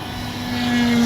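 Small RC airplane from a Skynetic Dragonfly land-ops flight, its electric motor giving a steady droning whine that swells louder as the plane passes close overhead.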